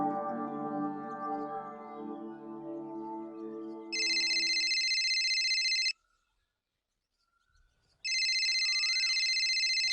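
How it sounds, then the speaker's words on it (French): A telephone rings in loud two-second electronic bursts, separated by a brief silence, after a stretch of harmonic music that fades out. "ton téléphone sonne."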